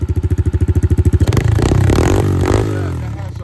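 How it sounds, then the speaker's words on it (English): A kids ATV four-wheeler with a performance pipe and performance carburetor is cranked with rapid rhythmic pulses, then catches and idles loudly, close, with a throaty burble. "It has a very throaty sound compared to the Apollos."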